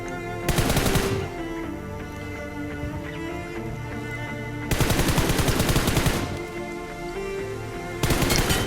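Loud automatic gunfire from the video game PUBG in winter mode comes in rapid bursts at the start, in the middle and at the end, with game sounds in between.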